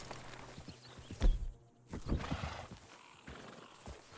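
A horse in the video game Red Dead Redemption 2 snorts and whinnies nearby, its hooves shuffling and clopping a few times, with low ambient sound around it.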